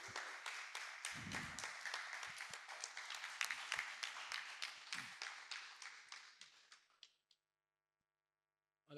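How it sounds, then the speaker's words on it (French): Audience applause after a conference presentation, moderately distant with clearly separable claps, steady for several seconds then thinning out and stopping, followed by near silence. "une autre salve d'applaudissements pour M. Zominto pour cette présentation"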